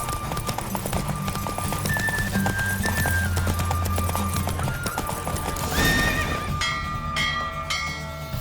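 Horse hooves clip-clop at a steady gallop with loud neighs and whinnies during a horse race in The Witcher 3, set over continuous game music and ambience with no talk.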